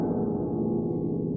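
Harp strings struck low to mimic a big gong, giving a sustained, dense low resonance that rings steadily without a break and stays loud throughout, with no talking.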